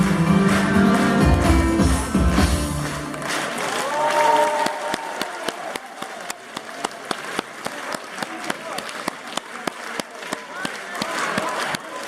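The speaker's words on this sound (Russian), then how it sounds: "Давайте еще раз подарим аплодисменты творческим коллективам Дубенского района." Audience applause for performing folk groups from Dubyonsky district at a Mordovian concert, starting as dense clapping over music, then thinning into scattered claps with a crowd murmur, moderately loud throughout.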